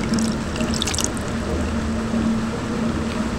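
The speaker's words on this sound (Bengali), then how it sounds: "এবার একটু অল্প করে জল দিয়ে দেবো কাপটা ধুয়ে।" Water poured into a cup of sour yogurt to rinse it: a continuous close splashing and trickling rush at steady loudness, with no pauses.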